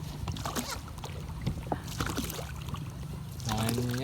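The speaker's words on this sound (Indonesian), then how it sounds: "Cukup satu orang yang dayung udah laju guys." Inflatable rubber boat paddled by one person across water with no engine, steady low splashing and water movement close by, with light speech-like sounds in places and a brief tonal sound near the end.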